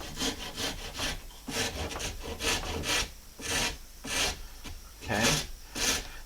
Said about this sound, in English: I'm just going to come again with the big rasp and cut an even facet.